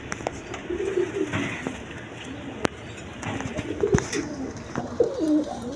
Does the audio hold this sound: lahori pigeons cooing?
yes